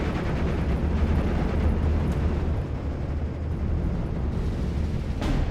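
Battlefield explosions destroying tanks in the WWII strategy game Steel Division Normandy 44, a loud, continuous roar of blasts and rumbling fire with a sharp burst near the end, no voices.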